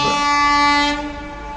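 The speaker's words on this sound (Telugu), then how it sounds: "రైలు రానే వచ్చేసింది." A loud, sustained train horn blares close by as the Repalle to Secunderabad train arrives at a station, holding a steady tone before dropping off with the rumble of rail cars underneath.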